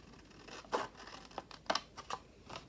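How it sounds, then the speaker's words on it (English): Scissors snipping through a paper junk-journal pocket along its score line, a few short crisp cuts with faint rustling between, close up and quiet with no voices. "take your scissors and cut through"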